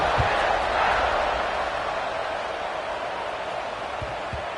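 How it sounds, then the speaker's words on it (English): A large stadium crowd at a Georgia vs Ole Miss college football game buzzes with a dense, steady roar after a score, heard from a distance with a few faint thuds. "this crowd is buzzing after that last score"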